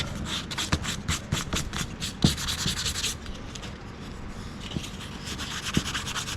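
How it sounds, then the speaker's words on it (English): A wooden wand is hand-sanded with a rapid series of close, rasping back-and-forth strokes, pausing briefly midway before the strokes resume, fairly soft with occasional light knocks. "now let's go ahead and sand the rest of this."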